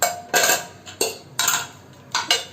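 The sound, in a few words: opening the lid of a pot of soup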